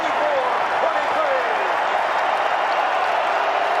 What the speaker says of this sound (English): that'll get the crowd alive in the building